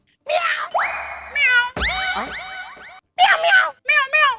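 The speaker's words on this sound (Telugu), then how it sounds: "ఇక్కడ పిల్లి మ్యావ్, అక్కడ పిల్లి మ్యావ్." A cat meowing indoors, several short tonal calls in quick succession with gliding pitch, close and fairly loud, separated by brief silences.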